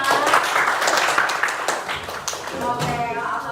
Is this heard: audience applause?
yes